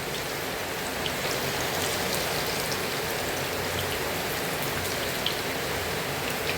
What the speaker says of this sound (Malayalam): നല്ല മഴയാണ്, നല്ല അന്തരീക്ഷമാണ്, നല്ല മഴ.